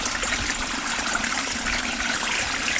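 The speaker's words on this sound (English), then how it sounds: "This water that's flowing" Flowing water, a steady dense rushing and trickling wash with no breaks, heard alone over a short stretch.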